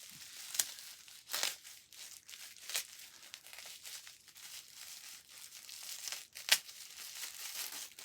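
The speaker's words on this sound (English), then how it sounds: "It's hard to see where the edge of the paper is, so you know where to rip." Wrapping paper being torn and crinkled off a gift, with repeated short rips and rustles spread irregularly, fairly close and alone.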